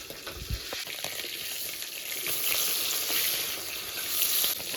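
Bata fish fry in hot oil with a steady close sizzle and spitting crackle that swells slightly louder toward the end, with a brief knock of handling early on.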